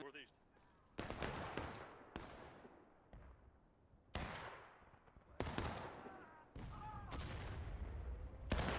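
Musket volleys and scattered independent fire in the War of Rights Civil War game, sharp loud cracks with long echoing tails, some close and some farther off, repeating irregularly over faint background voices.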